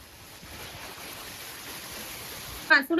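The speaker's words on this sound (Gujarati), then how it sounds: "વરસાદ કેવો આવે છે" Heavy rain pours down steadily over a village, a dense, even hiss of falling water close by, with a brief burst of a voice near the very end.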